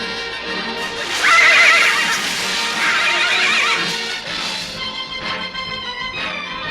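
Cartoon horses whinny loudly, with a long, rising neigh up close, followed by further snorts and neighs alongside shuffling movement.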